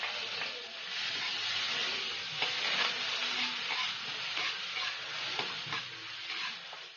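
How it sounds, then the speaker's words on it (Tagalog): Onion sautéing in oil in a pan, a continuous loud sizzle and hiss with occasional crackles and stirring scrapes throughout. "Start na po tayo ng pag-gisa. Uunahin ko po ang sibuyas."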